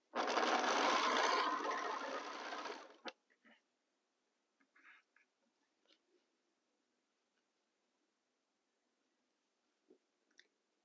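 A sewing machine stitching the first two sections of a pinwheel star quilt block with a quarter-inch seam, one loud continuous whirring run of about three seconds, followed by quiet fabric handling and small clicks.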